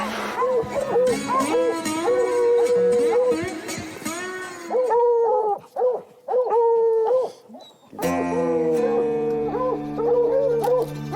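Several hunting dogs bay and howl in repeated, drawn-out calls around a treed cougar kitten on a mountain hillside, loud and close, with brief pauses between bursts of voices.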